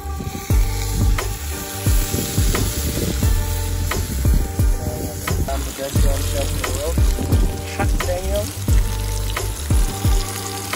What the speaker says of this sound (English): Let's just get ourselves a camp stove set up and get to cooking those